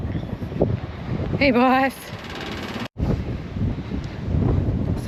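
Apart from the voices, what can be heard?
wind blowing through the barn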